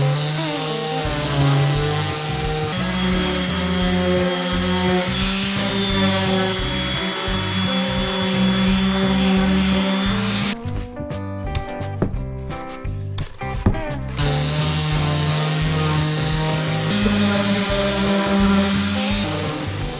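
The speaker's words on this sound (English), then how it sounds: "Since each part has been cut, I'll sand it." Sanding of hard-surfaced cut wood parts for a simple TV stand: a continuous droning power-sander whine with steady tones, interrupted midway by a few seconds of rougher grinding bursts before the even hum resumes.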